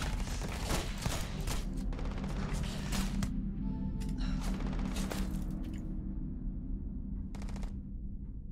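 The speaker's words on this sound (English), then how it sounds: "Oh, who's shooting me?" Gunfire erupts in the video game Starfield as loud, rapid automatic bursts and scattered single shots over a low rumbling background, easing off toward the end with a few sharp cracks.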